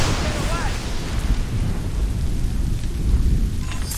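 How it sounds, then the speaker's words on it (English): Steady heavy rain and a rolling thunderstorm rumble continuously in the video game Assassin's Creed Rogue, loud and dense throughout, with a faint voice briefly underneath. "Storms getting worse."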